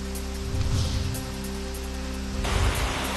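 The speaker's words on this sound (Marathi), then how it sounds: "सोलापुरातील माढ्यात पहाटेपासूनच मुसळधार पाऊस" Heavy downpour in Madha, Solapur, a steady broadband hiss of rain at moderate level that swells noticeably louder in the last second, with no voices heard.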